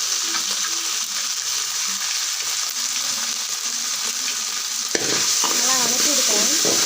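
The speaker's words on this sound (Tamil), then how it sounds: "நல்லா வதக்கி விடுக்கிறேன்." Pasta ingredients sauté with pepper in a pan, giving a loud, steady sizzle with constant scraping and stirring up close; a voice briefly joins near the end.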